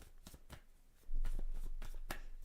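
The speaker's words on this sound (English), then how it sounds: "Go back to giving them a bit of a shuffle." Tarot cards shuffled by hand in quick, soft riffling bursts that grow a little louder partway through, quiet and close with no talking.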